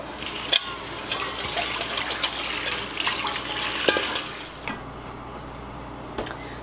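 Cold tap water runs and splashes over salted napa cabbage being rinsed for kimchi in a kitchen sink, a steady close trickle with handling noises and a few sharp knocks, easing off near the end.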